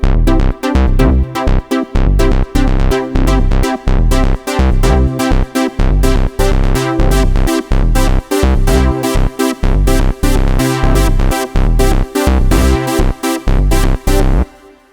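Two-handed rhythmic chord accompaniment from a Logic Pro session player, loud and steady, with evenly repeating stabs and short gaps running throughout, no voice.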